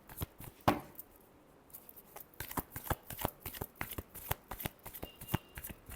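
Tarot cards being shuffled, a rapid run of crisp riffling flicks and slaps that keeps going for several seconds, close and fairly quiet with no talking.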